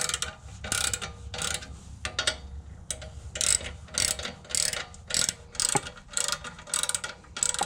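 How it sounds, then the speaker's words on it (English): A ratchet tightens the nylon lock nuts on an exhaust valve, giving rapid clicking bursts in repeated strokes, close and loud, separated by short pauses, with no talking. "Okay, now we can bolt this up."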